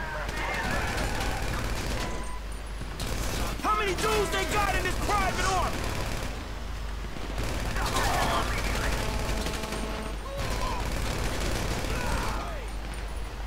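Rapid bursts of gunfire in the video game Grand Theft Auto V, during a robbery in Paleto, crackle in repeated volleys over steady engine and game noise while someone talks between shots.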